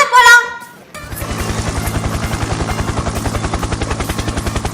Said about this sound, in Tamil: இது ஹெலிகாப்டர் சத்தம்ண்ணே